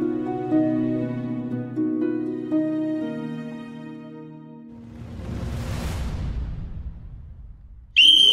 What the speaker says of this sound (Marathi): काय आहे या एवढ्या शिट्टीच्या आवाजानं एवढी घाबरलीस होय?